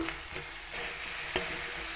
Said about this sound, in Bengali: এখন কুড়িয়ে রাখা লাউটা দিয়ে দিলাম